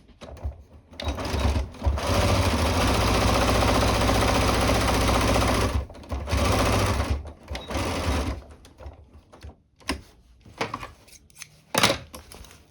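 A sewing machine stitches plastic boning into fabric in long steady bursts, loud and close, pausing briefly between runs with short starts and stops near the end.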